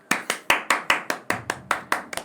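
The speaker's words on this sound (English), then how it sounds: "And nobody else is clapping" A single person clapping hands, about eleven sharp, evenly spaced claps in a quick steady rhythm, close and distinct, with a faint low murmur under the later claps.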